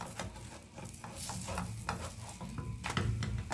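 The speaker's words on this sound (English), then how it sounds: "let's go ahead and flip this" A chocolate chip pancake sizzles steadily in a hot pan as it is flipped, with soft scraping and light clinks from the utensil over a continuous close frying hiss.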